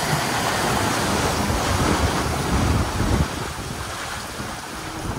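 Ocean waves wash and surge around a boat in the middle of the Atlantic, with strong wind buffeting the microphone in a constant roar that eases slightly toward the end.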